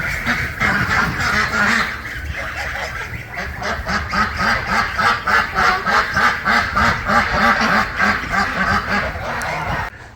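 A flock of big geese and ducks honk and quack continuously nearby, a busy overlapping chorus with a steady rhythmic run of calls in the middle and no talking.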